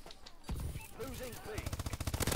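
Rapid gunfire bursts from a gun in the video game Killing Floor, loud and close, with dense repeated shots in the second half under excited talking.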